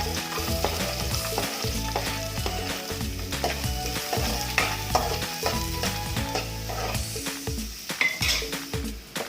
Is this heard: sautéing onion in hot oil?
yes